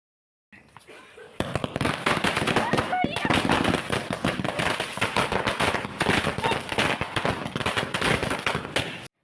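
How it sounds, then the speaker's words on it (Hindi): Diwali firecrackers set off in a village, a dense, rapid chain of sharp crackling bangs like a long string of crackers, loud and nearly continuous for several seconds. "अब सब मिलकर पटाखे जला रहे हैं"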